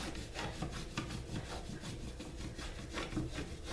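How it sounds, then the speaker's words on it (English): A Hershey chocolate bar rubbed steadily against a grater, giving a continuous dry rasping scrape with repeated back-and-forth strokes, close and moderately quiet with no talking. "So basically all I do is grate it"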